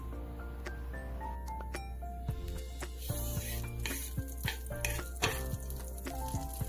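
Butter sizzling in a pan while cooking garlic green beans: a steady, close frying hiss with a few light clicks, under a continuous low hum of background music.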